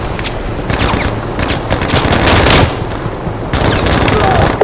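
Gunfire in the mobile shooter Battlefield Mobile, loud bursts of automatic fire and sharp shots repeating in quick clusters, with game voices in the background.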